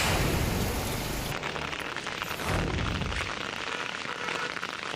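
Monsoon rain pours steadily in Khambhat, Anand, with water running along the roads, making a dense, continuous hiss with heavy low rumbling bursts early on and again midway.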